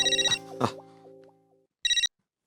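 A mobile phone ringtone chimes in bright, bouncy bursts, one long melodic phrase followed after a pause by a shorter repeat, close and clear.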